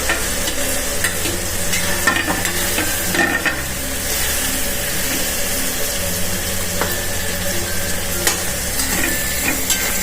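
Boiled potatoes tossed into hot oil in a pan for a spiced Gujarati potato dish, stirring and sizzling steadily and loudly throughout with scraping strokes, no talk.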